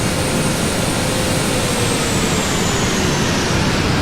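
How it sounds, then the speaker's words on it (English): Loud, steady jet engine roar from a PMDG Boeing 777-200LR freighter in Flight Simulator X, a dense broadband rush with a faint high whine that holds constant throughout, with no voices. "Quite a loud plane."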